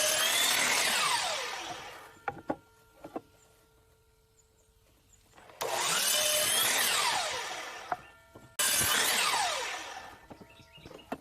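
A power saw cuts through a 1x8 board at a 1.5 degree angle, three long whining cuts each rising and falling in pitch, separated by brief quiet pauses with small clunks of the board being handled.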